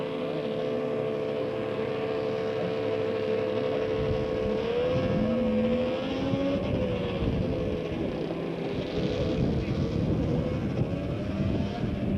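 A Mercury Twister snowmobile in a G Open fan-class race at Terryville in 1987 drones steadily and loudly from a distance, its engine pitch rising and falling as it runs the course, with no talk over it.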